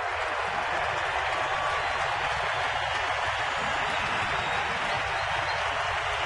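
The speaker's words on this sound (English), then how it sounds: "listen to this applause" A ballpark crowd at a Giants home game against Philadelphia keeps up sustained applause and cheering as pitcher Brian Wilson comes in, a dense, even roar filling the whole stretch.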